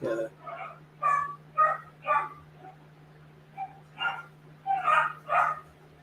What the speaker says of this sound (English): Someone just came in, the dog knows, because now he's whining and chirping like.